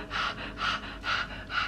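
A person imitates a stressed cat's loud panting, four rhythmic breathy huffs in quick succession, close and fairly loud.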